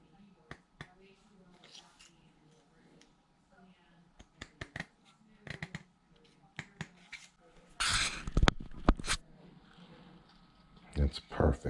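Scissors cutting fan guard material for a Kraton 8S RC car, heard as a series of sharp snips and crunchy cuts, with a denser burst of cutting partway through, close by. A voice talks quietly between the cuts.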